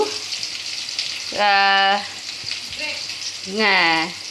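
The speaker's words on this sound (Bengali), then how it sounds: "এবার আলুটা ভেজে নেবো নুন হলুদ দিয়ে" Potatoes frying in a wok with salt and turmeric give a steady hiss, broken by two loud tonal bursts like a metal utensil scraping or ringing against the pan.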